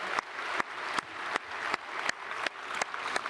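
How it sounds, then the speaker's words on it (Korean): Congregation clapping to welcome newly registered families at a Christmas morning church service, a steady wash of applause with a few sharper claps standing out, continuous through the moment. "우리 박수로 크게 환영하겠습니다"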